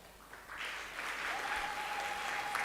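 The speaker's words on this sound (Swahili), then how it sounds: "Makofi mengi sana kwa Mheshimiwa Jaji mstaafu Rose Temba" Steady applause from an audience at a Tanzanian judiciary ceremony, building quickly to a dense, sustained clapping that fills the room.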